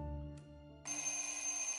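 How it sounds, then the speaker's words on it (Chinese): A mobile phone alarm starts ringing, a bright electronic tone that switches on suddenly after a moment of quiet music and continues steadily. "手机闹钟响起"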